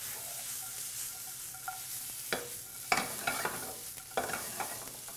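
Oyster mushrooms and shallots fry in a pan with a steady sizzle. Several sharp scraping and stirring knocks cut through it, close by, with no talking.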